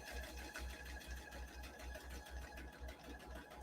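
Sewing machine stitching a buttonhole beside a half-inch seam, a steady rapid mechanical whir with regular stitch pulses repeating throughout, fairly quiet and continuous with no talking.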